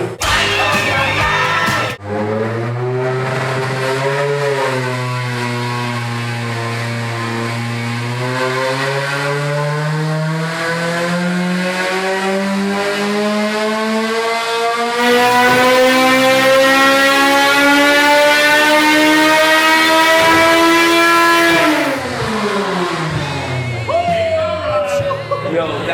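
A Honda K24 engine climbs steadily from a low idle rumble to a shrieking 10,000 rpm, holding the high, harmonically rich wail for several seconds before dropping back sharply; loud and close, with brief talk at the start and end.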